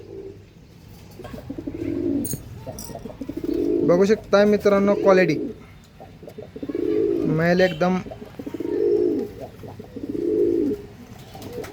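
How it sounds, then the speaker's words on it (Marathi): Andhra line pigeons, a male and female pair, coo in repeated low rolling phrases close by, with someone speaking at intervals between and over the calls. "आंध्रा लाईनचं कबूतर आहे"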